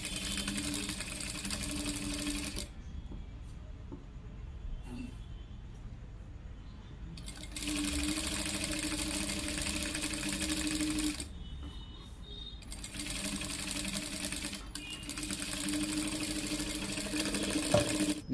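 Sewing machine stitching an Aari work blouse directly without a guide, in two long runs of steady rapid whirring with a quiet pause between them, close and clear with no talking.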